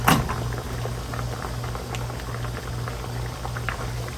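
Canning jars processing in water at a rolling boil: continuous bubbling, close by, with a low steady hum underneath and no talking.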